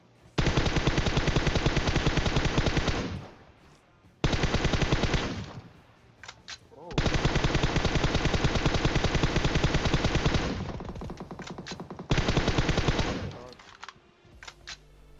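Sustained automatic gunfire in the video game PUBG Mobile rings out in four long, loud bursts separated by short gaps, with faint clicks between them.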